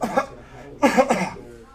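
A person mimics coughing with a short hack followed by two harsher coughs in quick succession, close and fairly loud.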